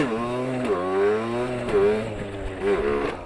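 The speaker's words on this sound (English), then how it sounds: "you can hear the bike is just gonna rev out and you have to either do a coaster or shift up" Dirt bike engine revving out in first gear, several rising then falling rev sweeps in quick succession, loud and close with no talk.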